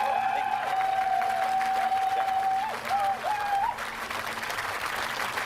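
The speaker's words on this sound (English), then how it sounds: "And we can give a round of applause to every single candidate that went for us." Audience applause for election candidates, a broad steady clapping wash that fills the clip, with a thin sustained tone wavering over it before the clapping eases slightly near the end.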